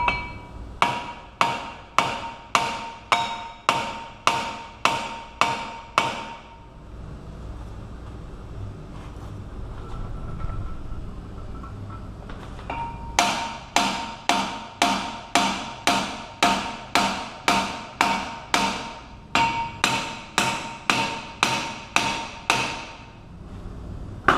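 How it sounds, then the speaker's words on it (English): Loud metallic hammer strikes on a Cadillac Escalade front wheel hub in quick rhythmic bursts, a run of about ten blows, a pause with low rumble, then two more rapid volleys. "First go-to is going to be the trusty dusty hammer. I'm going to hit it"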